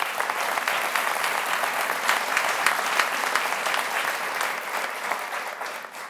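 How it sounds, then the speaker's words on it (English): Audience at a live debate event gives a round of applause, dense continuous clapping from a crowd, fairly loud and even, tapering slightly at the end. "y'all give a round of applause to Sethan"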